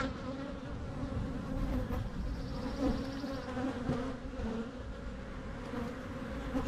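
Honey bees buzz in a steady, dense drone from an opened hive during an inspection, close and continuous, with no talking.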